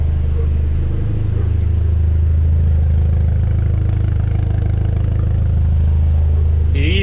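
A turbocharged Mini's engine idles with a steady low rumble and faint mechanical clatter, continuous and close, with a voice speaking over it.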